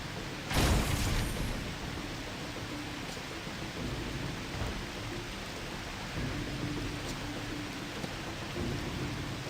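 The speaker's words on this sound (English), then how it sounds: "This rain sure is loud." Heavy rain pours down in a video game, with a loud thunder crack early on before the downpour settles into a steady, dense hiss; no one speaks.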